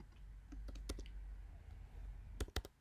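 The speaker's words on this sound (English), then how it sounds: "For an administrator password, just type in a good," Someone types a password on a computer keyboard while setting up a workspace, producing a few scattered key clicks early on and then a quick burst of three sharp taps near the end, fairly quiet against a low background hum.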